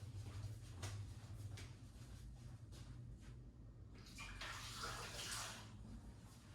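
Water from a Nespresso Vertuo Plus rinse poured out of a measuring cup, a steady splashing pour into a sink that swells louder toward the end, with a low hum underneath.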